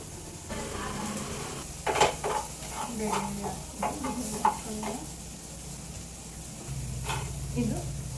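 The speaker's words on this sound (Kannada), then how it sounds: "4 ಮೆಣಸಿನ್ಕಾಯಿ ಸೇರಿಸ್ತಿದ್ದೀನಿ." Chillies sizzle in hot oil tempering for a South Indian sambar, a steady frying hiss broken by scraping stirs of a spoon against the pan, with a brief voice speaking partway through.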